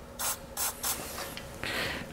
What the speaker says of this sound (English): And I'm spraying it straight at the camera.